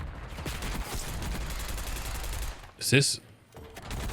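Rapid automatic AK rifle fire in the shooter game Black Ops 6, dense bursts of gunshots throughout with a sharper burst near the end, while a player talks over the action.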